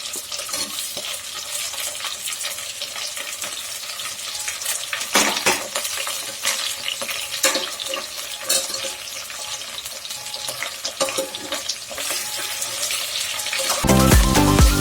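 Carrot and potato pieces are stir-fried for a veg biryani, sizzling steadily in hot oil with repeated scraping and stirring noises up close, growing louder near the end.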